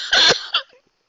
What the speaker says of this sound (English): Oh, I don't want to cough now.